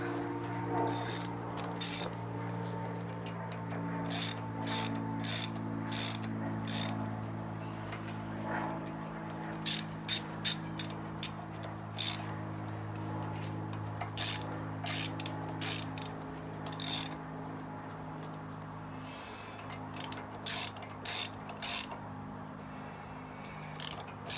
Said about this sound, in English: let's go ahead and snug the rotor down